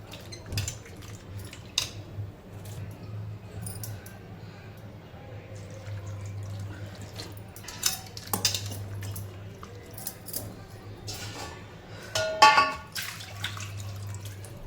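Intermittent squelching, splashing and dripping as soaked soya chunks are rinsed in water, close by, over a low steady hum with occasional clinks.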